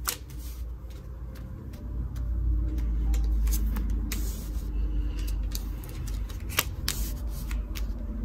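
A deck of playing cards is shuffled by hand, with repeated crisp riffling snaps and flicks in an uneven rhythm, close and moderately loud, with no talking.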